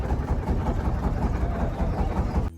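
Boat engine droning steadily at the start of a boat journey from Kaptai toward Rangamati, a continuous low rumble with no pauses, loud and close throughout.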